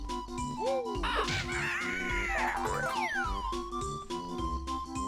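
A bird caws repeatedly in the Click Clock Wood level of the video game Banjo-Kazooie, its harsh calls rising and falling over steady game music and other bouncy sound effects.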